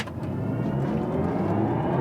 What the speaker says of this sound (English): Sport boost mode, maximum acceleration, let's go.